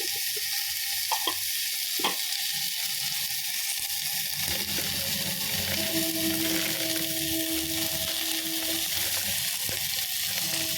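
Green chillies sautéing with chilli powder in a pan: a steady, close hiss of frying that runs throughout, with occasional light stirring taps and scrapes.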